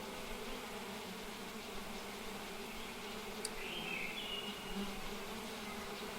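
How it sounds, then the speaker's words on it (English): Bees in the beekeeping video game APICO buzz steadily over a continuous droning background, with a few brief higher chirps and tones partway through and no speech. "I reckon some of these are bees I've rehabilitated."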